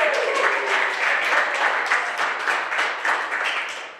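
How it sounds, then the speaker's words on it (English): Audience applause at a comedy show, a dense steady clapping from a crowd lasting a few seconds and tapering slightly at the end. "Like, just round of applause for that."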